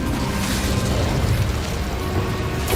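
An Incendio fire spell blasts in Hogwarts Legacy, a dense, roaring, whooshing burst of game noise sustained at close, loud level for nearly three seconds, no voices.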